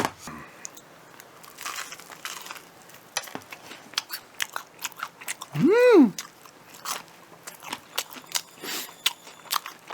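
Close, crisp crunching bites into crispy curry-seasoned Korean fried chicken, several sharp crackles spread across the clip, with a brief tonal squeak partway through.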